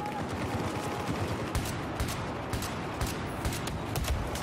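Gunfire from the Battlefield 4 video game, a steady stream of loud, close shots with sharp repeated bursts over a dense background of battle noise.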